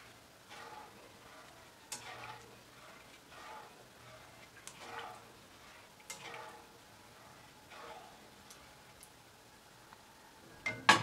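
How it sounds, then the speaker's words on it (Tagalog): Spoon stirring chicken à la king sauce with corn soup in a pot, a faint, quiet scraping at irregular intervals with a soft low hum underneath and a sharper clink at the end. "Halo-haloin lang hanggang sa lumapot."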